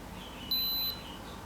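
A power bank built from 18650 cells beeps at low-voltage cutoff: a single steady electronic beep, high-pitched and clear, lasting under half a second over faint background hiss.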